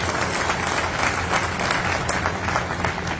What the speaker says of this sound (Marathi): तुम्ही तिच्यासाठी टाळ्या वाजवत आहे.